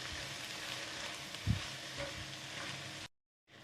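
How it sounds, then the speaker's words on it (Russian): Steady sizzling of cabbage with tomato paste frying in a pan, with a brief stir or clink midway, then the sound cuts off to silence near the end. "Даем минутку обжариться капусте вместе с томатной пастой и отключаем огонь."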